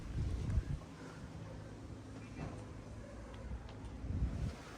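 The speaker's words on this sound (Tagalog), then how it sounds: "malakas po ang hangin ngayon" Strong wind blows steadily outdoors, buffeting the microphone with a continuous low rumble and gusty swells, no voices present.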